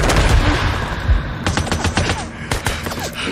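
Rapid, loud bursts of sniper gunfire in the video game Days Gone, overlapping cracks and booms in quick succession with dense echoing reports throughout.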